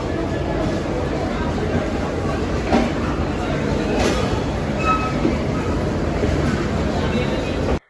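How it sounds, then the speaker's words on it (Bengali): A train arrives at Biman Bandar railway station in Bangladesh, a loud steady rumble of rolling wheels and carriages close by, with station crowd voices underneath until it cuts off abruptly. "আমরা বিমানবন্দর স্টেশনে ওয়েট করছি আমাদের ট্রেন চলে আসছে"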